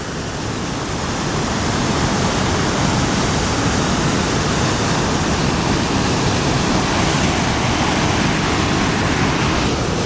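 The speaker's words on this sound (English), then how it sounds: "And we made it to the lower falls" Lower Tahquamenon Falls on the Tahquamenon River roars steadily up close, a loud, dense, unbroken rush of falling water filling the whole stretch.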